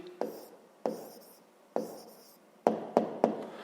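A pen writes out the answer to a fifth-grade decimal math exercise: several short, scratchy strokes come in separate bursts, ending in three quick close marks. Close and quiet, with no talking.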